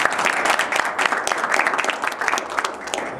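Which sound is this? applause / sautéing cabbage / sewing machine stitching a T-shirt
applause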